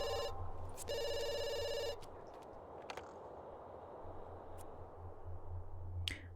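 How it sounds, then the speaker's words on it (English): Telephone ringing in The Sims life-simulation game: a repeated electronic ring in two bursts over a low game music bed, fairly quiet with no talking. "Someone on the phone, why not answer?"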